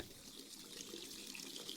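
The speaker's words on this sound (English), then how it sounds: "I'll put more hot water in." Hot water runs steadily from a tap into a bath in a video game, a continuous close splashing rush that holds even and unbroken throughout.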